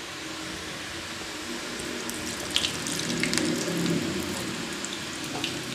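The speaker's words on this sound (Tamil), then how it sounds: "முதல்ல மூணு முறுக்கை பொறிச்சு எடுத்துக்கிட்டு பிறகு கூடுதலாக விடுவோம்" Murukku fries in hot oil, a steady, soft hiss and crackle of bubbling that continues throughout, with a few brief sharper pops midway and no voices.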